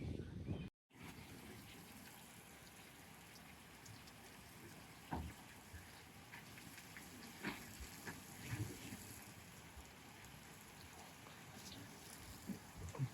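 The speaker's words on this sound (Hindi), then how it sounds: "ऊपर से पानी आ रहा है और इधर से चल रहा है ये," Water flowing along the wooden mill channel at Mabry Mill on the Blue Ridge Parkway, a steady soft outdoor rush with scattered splashy spikes, moderately distant and fairly quiet, with no talking over it.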